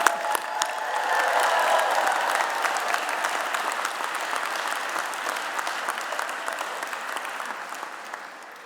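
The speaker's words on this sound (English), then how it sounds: "Senator Casey got short rift in the applause there" An audience at a rally against antisemitism applauds in a sustained wash of clapping that swells early, holds steady and slowly fades, with scattered individual claps standing out.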